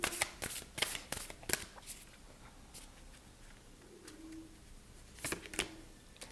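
Tarot cards shuffled by hand in a series of quick, crisp riffling bursts near the start, then a quieter stretch and another brief burst of shuffling toward the end, close and fairly soft.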